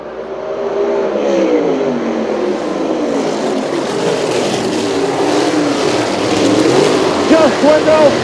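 USAC Silver Crown race cars roaring around the Du Quoin dirt oval, engine drone rising and falling as cars pass through the turns, heard steadily beneath continuous race commentary.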